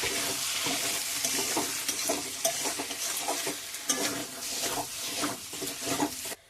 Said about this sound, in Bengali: এবারে মাংসের সঙ্গে মশলাটা ভালো করে কষিয়ে নেব